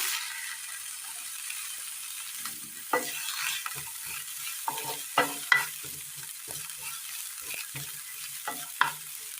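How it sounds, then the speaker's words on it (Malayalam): Capsicum sautéing in a pan, a soft continuous sizzle broken by intermittent scraping and stirring knocks of a utensil against the pan, close by and fairly quiet. "ആ പാനിലേക്ക് ക്യാപ്സിക്കം ഇട്ട് കൊടുക്കാം"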